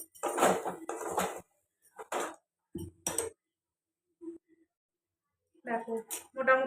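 A spoon scrapes and clinks against a pan while chira and mixed vegetable filling are stirred together, in short bursts separated by quiet pauses, with a voice speaking briefly near the end.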